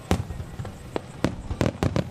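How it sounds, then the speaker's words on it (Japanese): Fireworks at a fireworks festival in Miyama, Fukuoka burst in a rapid run of sharp, booming explosions at irregular intervals, several crackling close together over a steady background rumble. "9000発の花火におよそ5万人が酔いしれました。"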